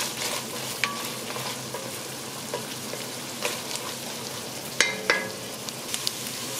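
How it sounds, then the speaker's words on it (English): Mirepoix vegetables sauté in hot oil for a Trinidadian fish broth, giving a steady close sizzle with scattered stirring scrapes and a couple of sharper clinks near the end. "where you add an aromatic so veggies to the hot oil"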